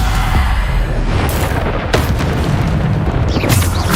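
Bombarda explosion spells go off in Hogwarts Legacy combat, heavy booming blasts with crackling bursts layered over constant loud game battle noise.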